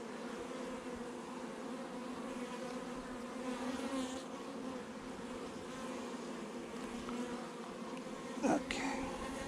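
Honeybees in a big hive, a steady dense buzzing drone heard close up, fairly quiet and constant with a brief knock near the end.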